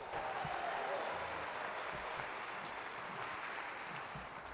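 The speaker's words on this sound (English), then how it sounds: "Give them a round of applause." Audience applause at a school district convocation, a broad wash of clapping that holds steady and stays fairly faint, with some talk mixed in.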